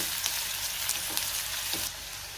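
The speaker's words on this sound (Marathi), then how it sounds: "कांदा मी थोडा परतून घेणार आहे आपल्याला जास्त लाल नाही करायचा थोडा परतून घ्यायचा आहे" Onion sautéing in a pan, lightly browned for a home-style vegetable curry: a steady, close sizzle with a few soft stirring scrapes, easing slightly quieter near the end, no voices.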